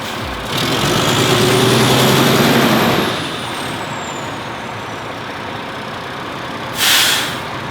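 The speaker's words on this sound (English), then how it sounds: "So right here, we have the pump truck." Concrete pump truck at a pole barn build site, its loud diesel engine running steadily with a rising hydraulic whine, then settling to a lower idle before a short burst of hiss near the end.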